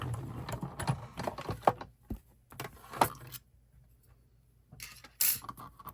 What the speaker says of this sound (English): So we're going to die cut this out.